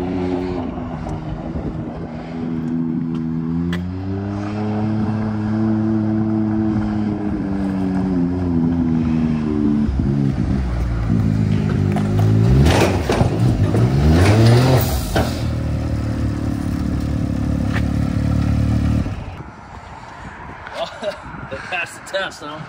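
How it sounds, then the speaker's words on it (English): Engine of an X3 side-by-side fitted with a Trill exhaust and extra muffler, in a video game: a steady drone that rises and falls with revving, then cuts out near the end, under people talking. "That Trill exhaust is so quiet with the extra muffler."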